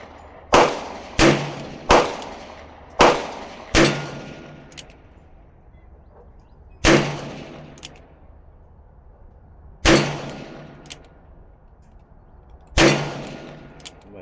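A 40-year-old Ruger GP100 revolver is fired single action outdoors in eight sharp, loud reports. Five come in quick succession, then three more follow at slower, wider intervals, each with a short ringing decay.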